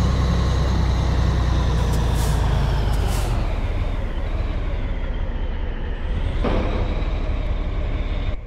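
Marcopolo G4 6x2 coach in Euro Truck Simulator 2 releasing its handbrake: a loud sustained air hiss over a steady diesel idle rumble, with a brief sharper burst of air partway through.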